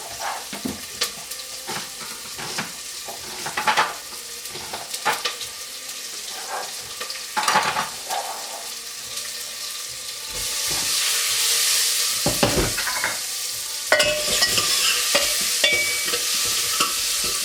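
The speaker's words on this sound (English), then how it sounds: "Here goes my onion. And then let it cook a little bit just to sweat it out." Red onion sweats in a pan for sambar with a steady sizzle and hiss, broken by repeated scraping stirs and clatters of a utensil, and the frying swells louder partway through.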